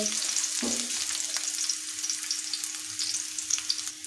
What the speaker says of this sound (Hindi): तकरीबन 10 से 12 अदद के लहसुन की कलियाँ को हम हल्का सा फ्राई करेंगे।